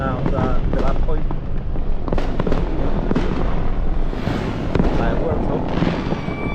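Dense, continuous New Year fireworks crackle and pop with booming bursts throughout, loud and close on a street in the rain, with voices talking faintly underneath.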